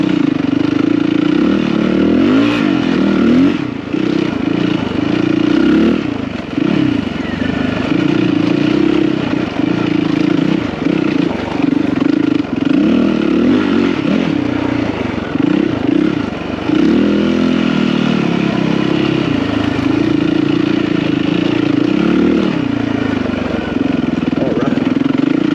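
Yamaha WR450 dirt bike ridden off-road through desert terrain, its engine droning loud and continuous close by, with steady throttle changes and rising and falling revs throughout.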